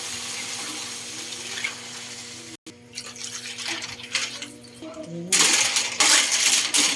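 Water poured into a pot for cooking seafood with mushrooms, a splashing, bright pour that swells loud near the end after softer kitchen clatter and a brief dropout.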